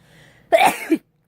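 One short, sharp sneeze bursts out loud and close, then silence.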